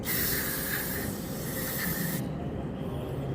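Close, continuous hiss of an aerosol cleaner spraying into a lawn mower engine's carburetor for about two seconds, then a softer lingering rush as the spray stops.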